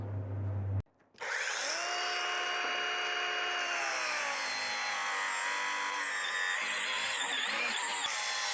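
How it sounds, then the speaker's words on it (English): An angle grinder cuts through car tyres on Honda City wheels, a sustained, high whining grind that runs steadily and close after a brief pause near the start. "Cut tyres with an angle grinder."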